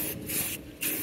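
Short hissing bursts of a spray can, two or three quick sprays separated by brief pauses, close by.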